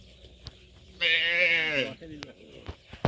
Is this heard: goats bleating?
yes